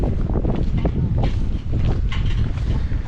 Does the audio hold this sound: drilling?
no